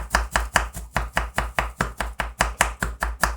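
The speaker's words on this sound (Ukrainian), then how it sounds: "Ось так, ножиком просто їх порізати, порізати, порізати" A knife chops dried nuts on a board in a fast, regular run of crisp, loud strokes, about five per second, with no voices.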